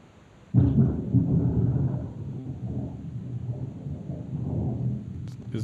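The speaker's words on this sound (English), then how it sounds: "No, that's thunder." Rolling thunder from a storm outside a house, a loud onset followed by a long low rumble that gradually fades, with faint voices in the background.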